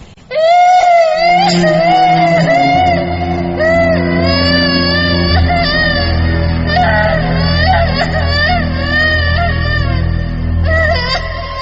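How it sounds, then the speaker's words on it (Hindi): A child's drawn-out wailing cry, eerie and sustained, rises and wavers for several seconds over a low droning bed, loud and close as if echoing up from a village well. "किसी बच्चे के रोने की आवाज थी।"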